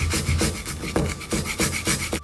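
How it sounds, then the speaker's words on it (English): Fresh garlic is rasped on a grater over a mortar and pestle. About seven quick, close scraping strokes sound in a steady rhythm. "I'm going to be grating in some fresh garlic."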